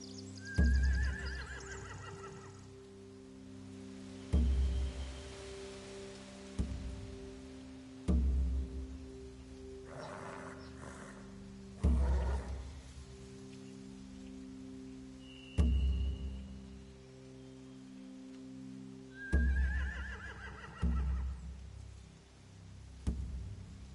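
Horses whinny shrilly at intervals in a video game, amid repeated dull thumps and clattering hoof sounds, with a low steady hum throughout.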